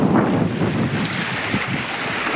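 Strong wind buffeting the microphone on the Lake Chelan shore in Washington State, a loud, steady low roar with gusty rumble and broadband hiss, no voices.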